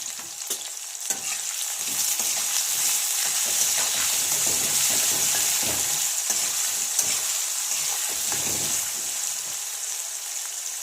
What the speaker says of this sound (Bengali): আলুটা আমার আরেকটু ভাজা হবে